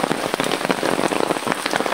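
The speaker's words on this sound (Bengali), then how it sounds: "বৃষ্টির পানি পড়তেছে নদীর ভিতরে" Heavy rain pouring into a village river and drumming on an umbrella overhead, a dense loud patter of countless drops with sharper close taps, steady throughout without speech.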